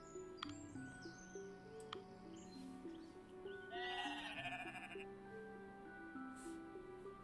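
Sheep bleating in the video game Equilinox, a wavering call heard in the middle of the stretch over soft ambient game music and faint ticking, moderately quiet.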